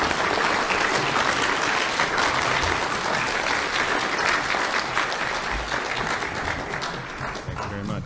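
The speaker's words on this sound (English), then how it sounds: "Round of applause for Brandon." Dense, sustained audience applause at an Eagle Scout Court of Honor celebrating Brandon, many hands clapping together loudly and continuously before easing slightly toward the end.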